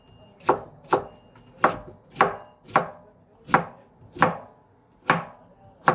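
A knife chops steadily on a cutting board, about nine crisp, evenly spaced strikes, close and clear with no talking.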